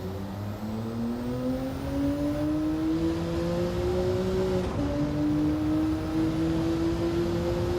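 A racing car engine in Gran Turismo 7 drones steadily and loud throughout, its pitch climbing slowly as it accelerates, dipping sharply at a gear change, then rising again.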